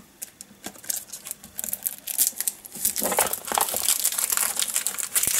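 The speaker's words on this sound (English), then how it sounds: "I can remove the cellophane now." Cellophane wrapping is peeled and crinkled off an AmigaOS 4.1 Final Edition box, a close, busy crackle of plastic that begins in scattered crinkles and swells into continuous loud rustling and crushing.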